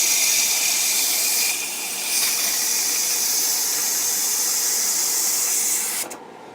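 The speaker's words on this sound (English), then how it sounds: "That's the noise that you're normally going to hear all the time. The steam is the noise." A pressure cooker releases a loud, continuous steam hiss, close and steady, briefly dipping once before cutting off near the end.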